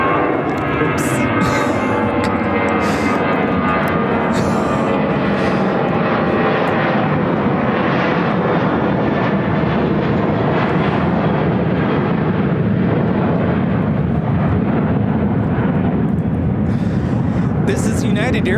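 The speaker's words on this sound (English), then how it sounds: "Already another takeoff." Airliner taking off at Chicago O'Hare Airport, a loud, sustained jet engine roar that fills the whole stretch with rumble and broad hiss, heard fairly close and steady throughout.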